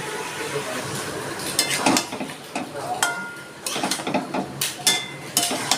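Ginger, garlic and onion paste goes into a pot of mutton already giving off its water, with clattering utensil knocks and stirring over a soft sizzle, a few sharp metallic taps standing out.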